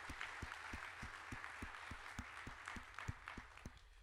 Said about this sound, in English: Would you give them a round of applause, too?